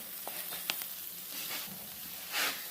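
Grilled cheese burrito browning on a Blackstone griddle, a soft steady sizzle of frying with a few faint crackles and a brief louder hiss near the end.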